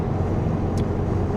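A 1972 VW Super Beetle engine fitted with an aftermarket carburetor and running rich idles with a steady low rumble, close and loud, with a brief faint hiss midway.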